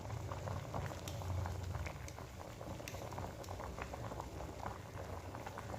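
Potatoes for French fries boiling in a pot of water, a steady close bubbling and popping patter that runs throughout with no voices.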